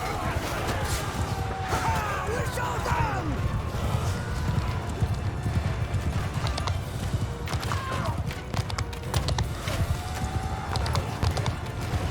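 Cavalry horses gallop in a Mount and Blade 2 Bannerlord battle, a dense, continuous drumming of hooves with occasional whinnies and clashing, loud and close, with a voice speaking over it.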